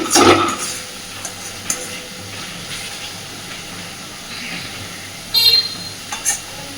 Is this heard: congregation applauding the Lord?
no